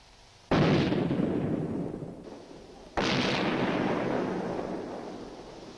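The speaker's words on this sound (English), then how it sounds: "Here is a friendly tank hunter team going into position with a rocket launcher." A rocket launcher fired by an infantry tank hunter team: two heavy blasts about two and a half seconds apart, each a sudden loud burst trailing into a long fading rumble.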